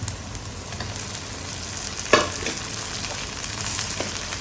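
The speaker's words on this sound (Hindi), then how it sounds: "लहसुन के साथ ही टमाटर डाल देती हूँ।" Tomatoes and garlic frying together in a home-kitchen pan, giving a steady close sizzle with light stirring scrapes and one brief louder clack partway through, with no talk.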